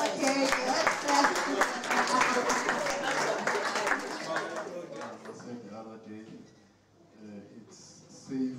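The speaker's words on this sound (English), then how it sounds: "So we're going to clap." An audience at a young professionals' business breakfast claps rhythmically along for several seconds, then fades away, leaving speech over a quieter room.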